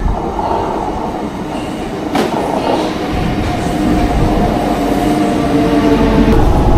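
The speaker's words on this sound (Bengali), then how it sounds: "একদম সঠিক সময়তে ট্রেন এসে গেছে" A train pulls into a station on the Kolkata to Tarapith route, a loud continuous rumble and rattle of rail cars with squealing wheels and clanking close by.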